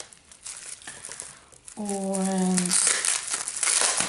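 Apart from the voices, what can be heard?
unwrapping a parcel packed in bubble wrap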